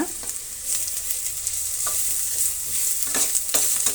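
Onion fries with ginger garlic paste in a pan for onion gobi manchurian fried rice, a soft steady sizzle broken by occasional scraping stirs of a spatula, close and alone.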